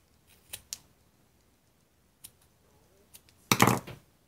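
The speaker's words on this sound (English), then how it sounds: "I think I'm going to snip this one down" Scissors snip paper for a junk journal, with a few quiet isolated cuts and then a louder burst of cutting near the end, close and otherwise silent.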